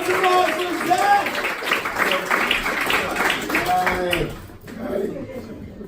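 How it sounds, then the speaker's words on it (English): Comedy club audience clapping as a comedian is introduced, a modest round of applause mixed with chatter and a laughing voice, fading quickly toward the end. "thanks for immediately stopping the clapping"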